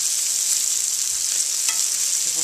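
Foie gras searing in a hot pan gives a loud, steady, dense hiss of fat frying, close and continuous throughout, with no talking over it.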